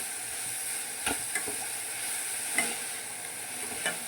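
Tamarind and onion sautéing in a pan for onion chutney, a continuous close sizzle broken by a few spoon scrapes and stirring knocks, no voices.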